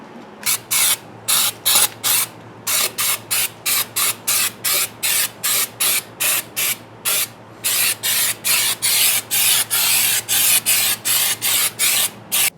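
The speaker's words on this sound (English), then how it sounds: "now we're gonna use some of this professional 3M undercoating, rubberized undercoating over here." Rubberized 3M undercoating sprayed in repeated short bursts under a car near the gas tank area, a loud close hiss switching on and off in a steady stop-start rhythm with no talking.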